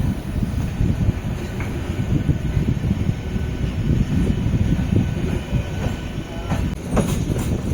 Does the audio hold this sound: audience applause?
no